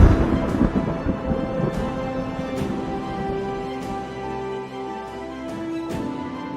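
Thunder sound effect in a fantasy storm-king setting, heard as a low continuous rumble with several sharp cracks spaced through it, fairly loud and steady with no voices.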